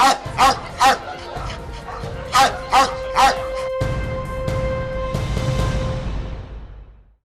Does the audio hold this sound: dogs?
yes